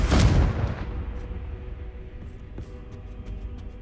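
A Confringo fire spell blasts off in Hogwarts Legacy, a loud explosive burst at the start that fades into a rumbling tail, with a few faint clicks and crackles after.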